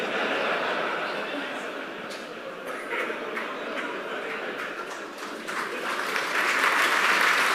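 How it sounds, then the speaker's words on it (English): Sustained applause from a convention crowd at a Star Citizen event fills the space, steady and dense throughout, rising a little louder toward the end, with scattered voices mixed in. "Lots of clapping."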